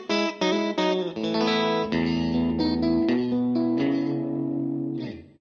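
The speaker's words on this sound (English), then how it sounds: "if you put the selector switch in the middle and neck position" Electric guitar, a Telecaster, played with all three pickups on: choppy opening notes give way to ringing sustained chords with a thick, slightly distorted tone, heard alone and close before fading out.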